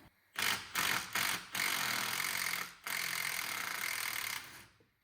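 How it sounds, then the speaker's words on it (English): An impact gun works on alternator bolts on a car, giving close, loud rattling bursts: a few short hits and then two longer runs. "2 more bolts. Let's see if we can get them with the gun."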